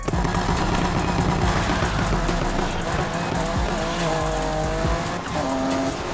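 A BMW E30 M3 Evo II race car in Need for Speed roars at high speed with a steady, loud engine drone, rising and shifting gear tones, and brief tire squeal throughout.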